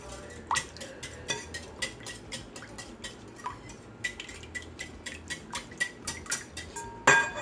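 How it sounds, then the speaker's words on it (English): Cheese muffin batter being mixed in a bowl, with a utensil clinking and scraping against the sides in a steady run of light taps throughout, close and fairly quiet. "Just mix everything together for a little bit."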